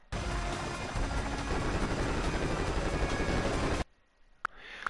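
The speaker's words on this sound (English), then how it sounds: "We've spotted Viper helicopters coming in high." Viper helicopters in the video game Pursuit Force roar in a dense, loud rotor-and-engine drone for nearly four seconds, then cut off abruptly, leaving a faint tail with a couple of short clicks.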